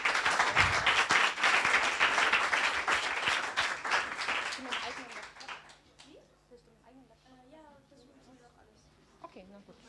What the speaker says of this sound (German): einen kleinen Applaus bitte